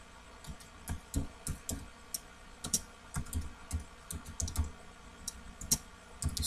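Close computer keyboard typing a channel name into a YouTube search box: irregular bursts of crisp key clicks with short pauses, no voices.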